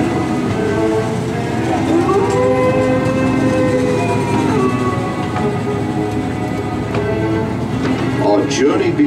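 An amusement park train ride at Trail Dust Town pulls out of the station with a steady loud rumble and mechanical drone, brief whistle-like tones rising and falling above it, and faint voices mixed in.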